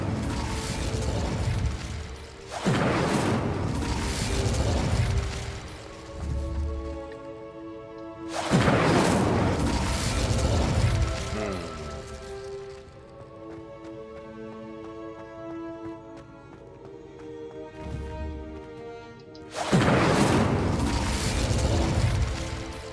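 Incendio fire spell bursts in Hogwarts Legacy, four loud whooshing fiery blasts spaced several seconds apart, each fading into crackling game ambience with a soft musical tone between.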